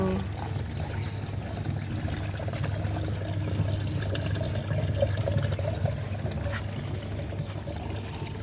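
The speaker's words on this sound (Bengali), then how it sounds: "সকাল সকাল এখন জল দেওয়া চলছে" Water pours in a steady, even rush onto plants in a rooftop garden during morning watering. The flow holds unbroken and moderately close from start to finish, with faint outdoor background noise.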